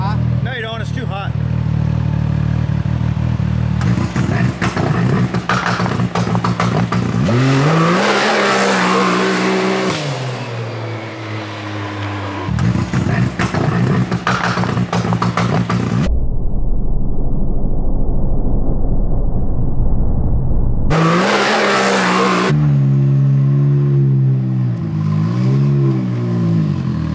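Hard launch on a machine fitted with two-step launch control from Evolution Powersports, loud revving engine bursts and a hard acceleration roar with abrupt cuts between segments, with people talking over parts of it.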